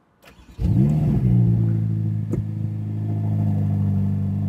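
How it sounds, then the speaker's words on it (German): A V8 sports car engine started with the Manettino set to Race, a brief starter whir followed by a sharp flare of revs that settles into a loud, steady idle close by. "Dazu drehen wir den Manettino einmal hier auf Race und starten das Fahrzeug."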